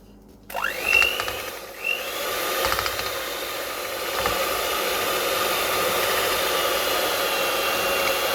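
A stand mixer starts up and runs on sourdough bread dough, its motor whine rising and then settling into a steady, loud hum, with a few light knocks near the start and no voices.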